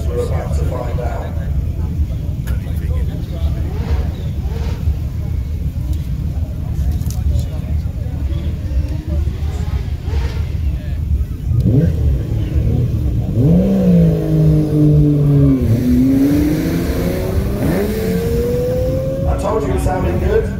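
A 1964 Ferrari 250 TR sports car at a hill climb event, its engine revving and pulling away up the hill, loud and rising in pitch, with a commentator talking over it.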